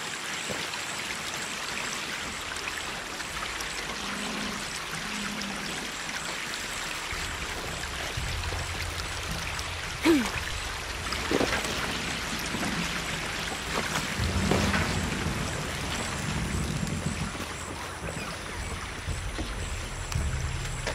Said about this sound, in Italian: L'acqua sta riempiendo il silo.